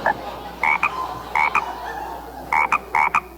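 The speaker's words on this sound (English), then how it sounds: "Everywhere you look, there are frogs, frogs, and more frogs." Frogs croaking in short paired bursts, loud and close, repeating every second or so over a faint background hum, with no voices.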